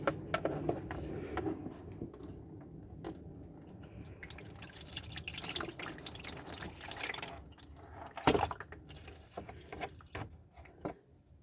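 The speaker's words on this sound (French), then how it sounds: "Donc on fait la vidange, vous laissez couler et je reviens pour le filtre à huile." Engine oil draining from a Ford Kuga during an oil change, a faint, steady trickle of liquid with scattered drips and occasional clinks, quiet and close with no talking.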